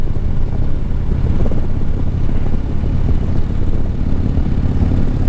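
A Harley-Davidson Street Glide riding home on the road, a steady low engine rumble mixed with heavy wind roar, continuous and close throughout.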